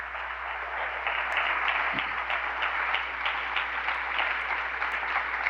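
A church congregation applauds steadily, a sustained wash of clapping at moderate distance that holds evenly throughout.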